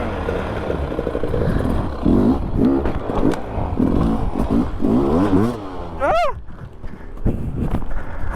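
KTM motorcycle engine revving while riding off-road on a lost adventure ride through boggy ground, throttle rising and falling in uneven bursts close by, mixed with clatter, with people talking over it.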